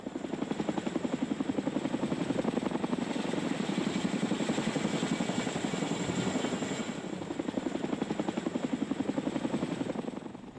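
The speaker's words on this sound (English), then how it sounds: "One of the CH-47s takes off from the hill above camp and maneuvers over to the excavation site." A CH-47 helicopter lifts off from a hill above a camp and maneuvers toward an excavation site, its heavy rotor thumping in a steady, loud, continuous beat with a droning engine whine.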